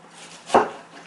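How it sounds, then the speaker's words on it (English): A single crisp knife chop through a tomato against a cutting board, close and sharp, with a quiet room hum before and after. "I'm chopping it into even slices."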